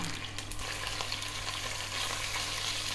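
Chicken browning in olive oil in a pan on the stove for coq au vin, giving a continuous soft sizzle and hiss at moderate distance, with no talking.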